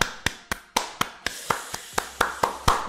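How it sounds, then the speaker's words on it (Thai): A single person clapping alone at close range during a day-trading livestream, with steady, evenly spaced sharp claps about four per second and no voice over them. "ปรบมือนะฮะ"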